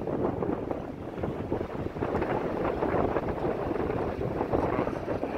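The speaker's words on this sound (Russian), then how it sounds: "Ветер резко поднялся, но будем надеяться, что он также резко и успокоится" Strong, suddenly risen wind at Lake Tahoe, California, roars continuously into the microphone, a dense rumbling gusty buffeting with no talk.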